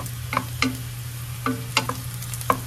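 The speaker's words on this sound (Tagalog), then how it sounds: "Ano na po natin yung bawang, igisa na po natin" Garlic sautés in a hot pan for humba, with a steady close sizzle under a handful of sharp scraping stirs spaced irregularly, and no voices.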